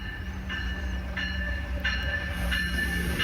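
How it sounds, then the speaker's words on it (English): An Amtrak passenger train rumbles steadily nearby with a high tonal hum and repeated bursts of squealing or whistle-like tones as it rolls into a station in Maine. "Here comes our train heading back down to go to Wells Transportation Center."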